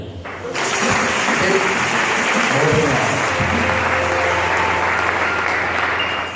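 A church congregation at a long vigil service breaks into sustained, loud applause, a steady wash of many hands clapping together with some voices mixed in beneath.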